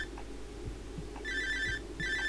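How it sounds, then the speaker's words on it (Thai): A mobile phone rings in the horror video game Cry of Fear, giving two bursts of bright electronic ringtone over a low, throbbing game ambience. "โทรศัพท์ใครดังวะ"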